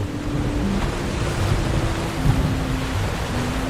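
Ocean surf washing in a steady, unbroken roar of waves from a primordial sea, with a faint low drone held beneath and no voices.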